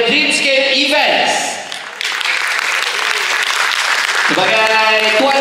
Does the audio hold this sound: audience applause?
yes